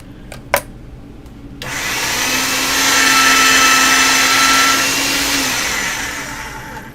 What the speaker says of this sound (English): make it thin enough to go through the pasta machine